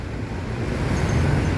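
Continuous low roar of road traffic, vehicles rumbling past steadily and fairly close, with no voices.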